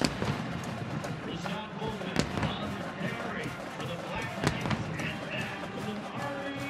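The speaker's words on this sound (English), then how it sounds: "I can feel those cannon blasts from here." Cannon blasts at an Army Black Knights college football game against Morgan State: two sharp, booming reports cut through steady crowd noise while commentators talk.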